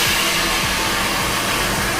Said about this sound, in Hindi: कूलर ऑन किया